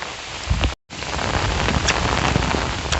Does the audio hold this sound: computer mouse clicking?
no